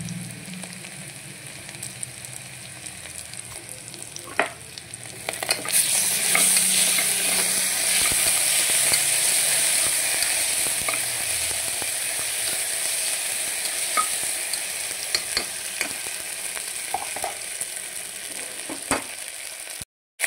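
Ginger garlic paste frying in a pan: a quiet stir and scrape at first, then the sizzle swells sharply and holds as a loud, steady hiss, with occasional spatula clicks against the metal.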